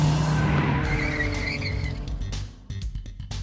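A 1933 roadster fitted with a new exhaust kit pulls away on a test drive. The engine note is strong at first, then recedes and fades, and a few sharp noises follow near the end.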